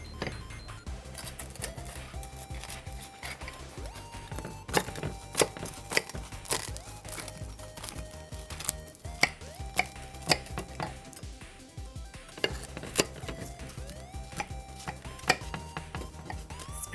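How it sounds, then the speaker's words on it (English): A knife cuts a crispy vegan kimchi jeon pancake into triangles, a steady run of sharp clicks and taps against the plate or board, close and continuous, with no talking. "What we're gonna do is cut it into triangles."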